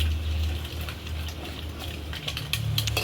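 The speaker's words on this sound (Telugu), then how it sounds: "ఇప్పుడు ఇందులో కొంచెం నీళ్ళు పోసుకున్నా" Water poured from a vessel into a cooking pot of salted curd chutney, a steady close splashing rush over a low hum with no talk.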